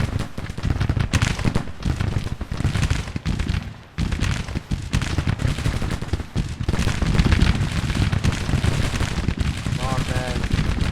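Musket volleys in a Civil War battle game, dense rattling gunfire with rapid overlapping shots and booming reports, continuous and loud, with someone talking over the fighting.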